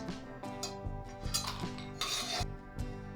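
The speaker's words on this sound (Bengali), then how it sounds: "তেলটা একটু গরম হলে আগে বড়িগুলো ভেজে তুলে রাখবো।" Lentil dumplings (bori) frying in mustard oil in a wok, with a steady sizzle under repeated clinks and scrapes of a utensil against the pan, close and moderately loud.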